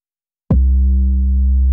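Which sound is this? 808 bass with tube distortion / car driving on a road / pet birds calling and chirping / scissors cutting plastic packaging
808 bass with tube distortion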